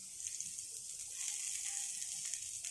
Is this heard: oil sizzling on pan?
yes